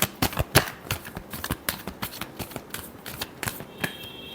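Tarot cards being shuffled by hand in quick, uneven riffling bursts of sharp papery slaps and flicks, close and fairly loud, with no talking.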